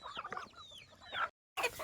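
Backyard desi hens cluck and chatter busily at close range at feeding time, a flurry of short calls with a brief gap before more clucking.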